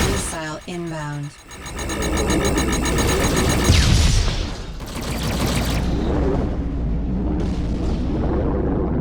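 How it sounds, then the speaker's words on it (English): A missile explodes near the player's spaceship in Rebel Galaxy Outlaw: a rising whoosh and a loud burst around the four-second mark, with rumbling debris trailing off under steady engine drone and a brief voice at the start. "Missile inbound."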